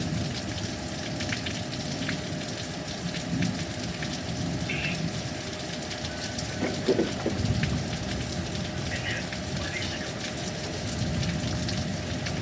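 Heavy thunderstorm rain pours steadily on surfaces, a dense continuous hiss with low rumbling thunder building around the middle, gusty wind in the mix, no voices.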